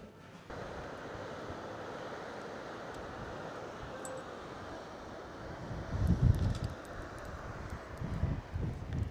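Wind buffets the microphone at the top of a tower in Córdoba, Spain, in a constant rushing hiss, swelling into heavier low gusts toward the end.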